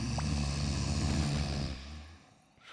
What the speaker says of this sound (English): They're snoring. They're making as much noise as a couple of big hippos.